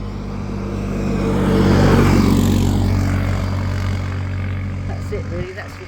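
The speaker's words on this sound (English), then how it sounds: "there's someone on an ATV, look," An ATV drives past outdoors, its engine drone swelling as it nears and then fading away over several seconds, with a voice talking over it.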